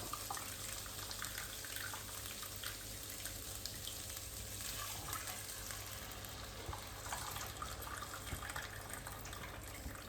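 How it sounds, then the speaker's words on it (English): Two cups of water added to pulao frying in a pan, a continuous pouring, splashing wash over sizzling at low to moderate level, with no speech. "Now I'm going to add 2 cups of water."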